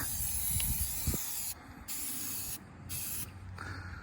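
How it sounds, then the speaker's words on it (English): Steady hissing spray bursts of tire and trim coating from a spray bottle, several in a row with short pauses between, close and fairly loud over a low background rumble. "It comes in a nice convenient spray bottle, and I thought I'd try it on half of it first"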